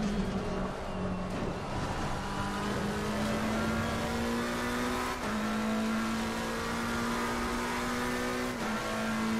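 A McLaren race car engine in Assetto Corsa Competizione at Monza screams high and steady at full revs. Pitch climbs through each gear and then drops at quick shifts, with the sound loud and continuous throughout.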